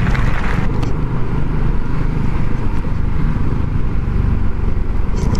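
A BMW C400 X scooter accelerates on an open road, its engine drone steady and loud beneath heavy rushing wind noise, with no voices.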